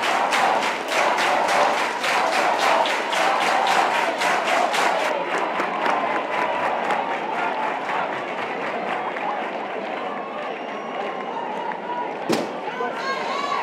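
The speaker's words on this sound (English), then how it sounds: "The crowd chanting for one more point." A crowd at an ultimate frisbee women's final chants and claps in a fast, steady rhythm, then the chant fades into a looser roar of cheering. Commentary voices talk over it throughout.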